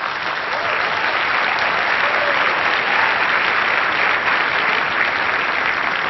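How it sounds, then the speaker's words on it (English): A large audience applauds at the UN 'Tunes for Peace' concert, a loud, continuous wall of clapping from many people that holds steady from start to finish with no voices above it. "He sure deserved this applause"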